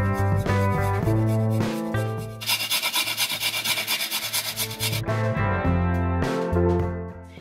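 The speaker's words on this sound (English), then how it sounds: "now I'm going to be grating in my ginger." Fresh ginger grated against a grater for a slow cooker recipe, heard as a rapid rhythmic rasping run of strokes in the middle, close and fairly loud, with sustained tonal music playing before and after.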